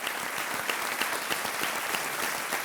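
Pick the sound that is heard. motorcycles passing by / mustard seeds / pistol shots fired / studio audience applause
studio audience applause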